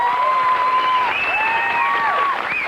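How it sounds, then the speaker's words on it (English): A television talk-show studio audience claps loudly, with sliding whistles and cheers riding above the dense wash of hands for a few seconds. "so give him a big clap"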